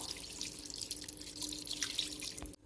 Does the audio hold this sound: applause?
no